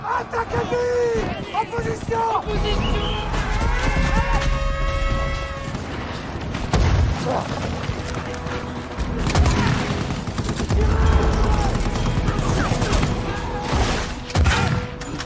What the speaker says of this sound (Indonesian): Senapan mesin langsung melepaskan ratusan tembakan yang mengarah ke serdadu-serdadu Jerman yang kelelahan